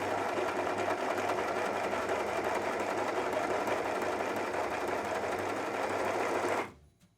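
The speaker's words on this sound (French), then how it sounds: "on va donc appuyer sur notre pédale pour faire notre chaîne de couleur blanche" Overlock serger running fast to form a thread chain, a loud continuous whirring hum at steady pace that stops abruptly near the end.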